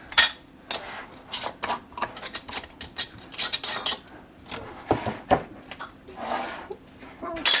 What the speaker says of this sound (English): Tighten the rings on.